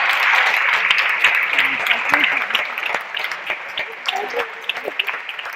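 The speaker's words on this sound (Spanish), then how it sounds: "Un aplauso, ¿no? No, van a aplaudir, bueno." Audience clapping for panel speakers at an academic teaching-and-training session, steady and fairly dense applause filling the room, with faint murmurs of talk underneath.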